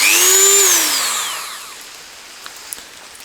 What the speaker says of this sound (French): On va essayer de meuler les vis là, faire une fente.